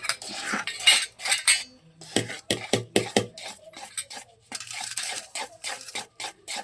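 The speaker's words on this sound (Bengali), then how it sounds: "আর দিয়ে দেবো এই যে এই ফ্রুটগুলো, কাজু, এইগুলো দিয়ে ভালো করে ফাটানো হচ্ছে" Fruitcake batter with dried fruits and cashews being beaten in a bowl, with a busy scraping, clinking rhythm of a utensil against the dish that continues with short pauses.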